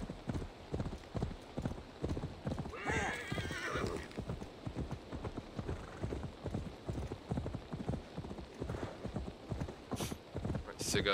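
Horse hooves in Assassin's Creed Valhalla clip-clop steadily at a quick gait, with a whinny partway through, alongside a man's speech.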